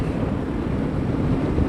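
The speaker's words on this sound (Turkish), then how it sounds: "Ve hava çok rüzgarlı. Zaten sesten de anlaşılıyordur." Heavy wind buffets the microphone while riding a KTM 390 Adventure motorcycle along the Bosphorus shore, a loud continuous low roar with no speech over it.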